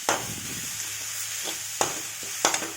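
Turmeric is stirred into a sizzling frying pan for papaya thoran: a steady soft frying hiss with a few sharp scraping clicks of the spoon against the pan, close and quiet, with no talking.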